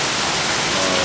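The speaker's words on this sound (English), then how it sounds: "you're probably hearing a lot of rain pouring off the roof" Heavy rain pouring down onto a tin roof, a dense, loud, unbroken hiss of drumming water filling the whole short moment.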